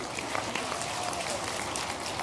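Audience applause at a live conference event in Kenya, a brief burst of dense clapping from a crowded hall, steady and fairly loud throughout its short duration.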